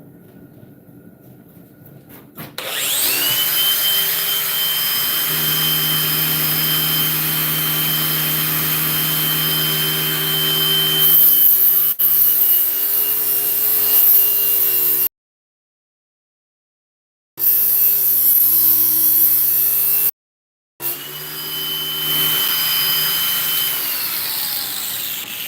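Steady whine of a power tool shaving down wood on a large build, running loud and continuous with a rising pitch at start and two short gaps where it cuts out.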